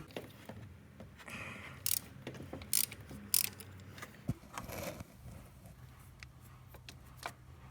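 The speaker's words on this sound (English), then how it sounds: "we're gonna loosen up the tensioner pulley" Hand ratchet loosening the tensioner pulley on a VW Transporter T5 1.9 TDI during timing belt work, heard as quiet bursts of clicking pawl and metal clinks, close up and without talk.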